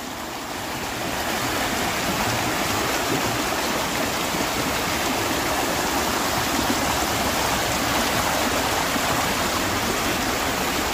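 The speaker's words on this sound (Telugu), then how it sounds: "చూడండి వాటర్ ఎలా వెళ్తున్నాయో." Water rushes through a small lock on a village canal in the Godavari districts, a steady, loud, broadband roar that stays constant from start to finish, with no voices.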